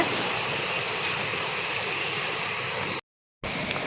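Floodwater rushes steadily near a bridge after heavy rain, a loud, constant roar of flowing water that cuts out briefly near the end before resuming.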